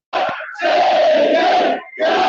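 Manchester United fans protesting at Old Trafford, a large crowd roaring and chanting in loud sustained surges, briefly dipping between bursts.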